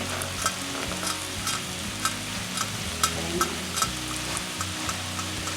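Butter and beef steak fry in a pan with a dense, steady sizzle, punctuated by soft scrapes and taps of a utensil, close and continuous with no talk.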